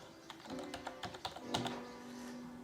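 Light clicking keystrokes on a computer keyboard, a quick run of close, soft taps in uneven rhythm that pauses and resumes, typed alone over a faint background hum.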